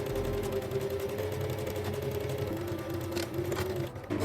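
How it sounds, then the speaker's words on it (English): Sewing machine stitching a shoulder seam on a kimono jacket, a steady, close mechanical whir with fast regular pulses, continuous throughout with no talk. "Sew along the shoulder line."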